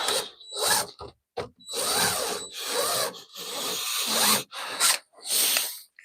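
A power drill struggles to back out a stubborn screw during shed repair work on a rotten floor, door and steps: repeated whirring bursts with short pauses between them, fairly close, and no talking.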